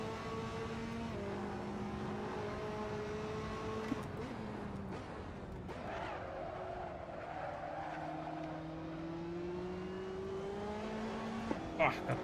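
Race car engine in the Assetto Corsa racing game, held at a steady drone with shifting pitch and brief tire chatter, close and continuous.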